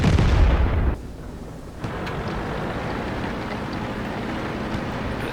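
Tank cannon fire in World of Tanks, an M44 self-propelled gun and a small Czech tank in the battle: a loud, booming blast opens, then a dense rumbling wash of distant battle noise continues steadily.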